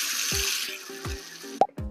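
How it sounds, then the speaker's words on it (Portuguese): Water runs and splashes into a bowl, covering a wheat flour dough being prepared as seitan, with a steady hissing pour broken by a few thuds and clinks. "cobrir essa massa aqui todinha com água"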